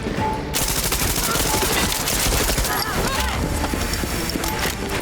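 Sustained automatic gunfire rattles through a chaotic Far Cry 6 firefight, bursts overlapping loudly and continuously over game sounds, with players' voices mixed in.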